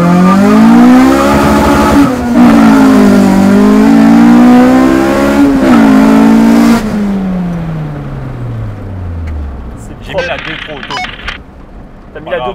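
A Honda Civic with a K20 engine swap revs loudly and climbs through a gear, pitch rising steadily, dipping at each shift and rising again, before the engine note falls away into the distance while voices talk over the tail end.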